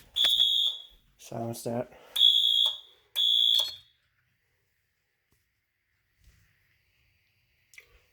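A fire alarm system under test sounds in loud, repeated high-pitched electronic beeps, four bursts over a few seconds, with a brief voice between them, then near silence with faint clicks.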